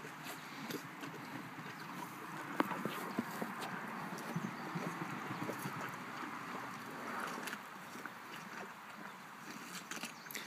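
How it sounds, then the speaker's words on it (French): Horses munch on watermelon, with wet crunching bites and chewing in quiet irregular bursts and a few sharper snaps, close but soft over a low outdoor background with no talking. "Les chevaux, ça l'aime le melon d'eau."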